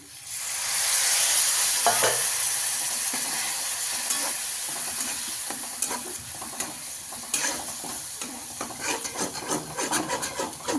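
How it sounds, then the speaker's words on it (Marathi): A spoon stirs and scrapes egg curry masala with chili powder and a splash of water in a pan, producing a close, continuous sizzling rub with rhythmic strokes and no talk. "थोडंसं हलवून घेऊ काळा तिखट चवीनुसार थोड़स पानी"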